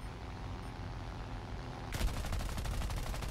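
A front gunner's machine gun fires in a video game, a dense rapid burst that kicks in partway through over steady engine-like background rumble.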